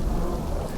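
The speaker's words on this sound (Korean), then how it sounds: "일단 비가 오니까 좀 피하죠." Steady, dense rain pours down in a forest at night, a continuous close hiss with a low rumble and no voices.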